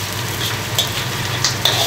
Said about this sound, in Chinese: 把香味儿炒出来哈